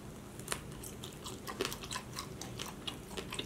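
Close crunchy biting and chewing of fried dumplings, a series of crisp snaps and crackles in uneven rhythm, no talking.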